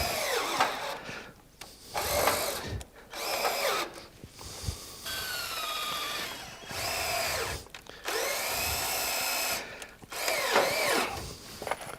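A power drill drives screws into wooden terrace deck boards in repeated bursts: rising and falling motor whines separated by short pauses, close and clear, with no talk.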